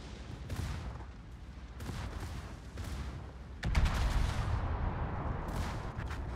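Heavy naval gunfire in a WW2 naval combat game, big guns striking a battleship, with a steady rumbling barrage that swells into a louder, denser salvo partway through.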